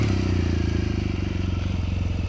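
A BMW R1200GS motorcycle engine runs close by with a loud, steady, throbbing boxer-twin rumble and no other sounds.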